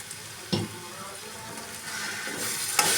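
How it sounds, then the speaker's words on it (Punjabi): Soya chunks fry in a pan with capsicum and spices for Amritsari nutri kulcha, a soft steady sizzle broken by a few scraping stirs of the spatula, close and fairly quiet, with no talking. "ਇਹਨੂੰ ਪਹਿਲਾਂ ਥੋੜੀ ਦੇਰ ਫਰਾਈ ਕਰਾਂ"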